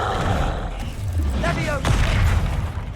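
Confringo blasting spell explosions in the Hogwarts Legacy video game, a couple of booming blasts with crackling bursts amid combat noise, while a voice shouts spell names over the action.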